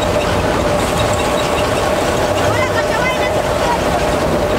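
A tractor engine runs steadily on a wheat farm, a loud, continuous drone with a sustained hum and no pauses.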